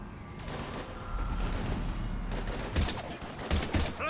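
Gunfire in the Mass Effect 3 video game during a zombie attack, a steady rumbling barrage with several sharp, loud bursts toward the end, no voices over it.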